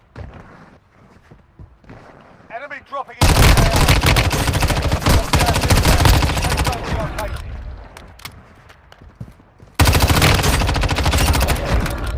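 Loud, dense bursts of rapid gunfire from a video game, starting abruptly after a quieter stretch and kicking in again near the end.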